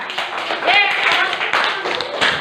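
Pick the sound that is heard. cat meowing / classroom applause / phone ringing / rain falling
classroom applause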